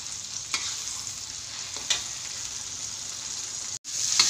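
Chili peppers frying in hot oil in a pan, a steady bright sizzle with a few soft crackles, close and continuous, cut by a brief drop near the end.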